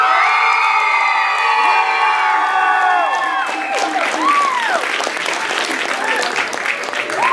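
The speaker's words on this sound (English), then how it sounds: "Let's give both of them another round of applause." A hall audience at a music and arts contest bursts into sustained applause with excited shouts and whoops, including children's voices, loud and lively throughout as cheers rise and fall.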